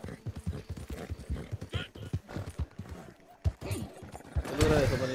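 Horse hooves in Red Dead Redemption 2, a steady rhythmic clip-clop of a trotting horse, close and clear, ending in a neigh, with people talking over it.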